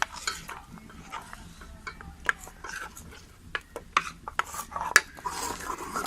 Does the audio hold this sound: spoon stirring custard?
yes